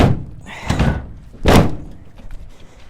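Two heavy, close thunks from a 1998 Ford F-150's double-swing tailgate closing, the second louder and sharper, followed by faint rattles and low background noise.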